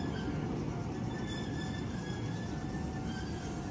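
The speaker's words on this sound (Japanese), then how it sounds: "松山市方面、まあ、つまりね高浜方面の列車が出てきました" An Iyotetsu train rolls out of Matsuyama-shi station, heading toward Takahama from an island platform, as a steady low rumble with faint squealing tones, moderately distant and continuous.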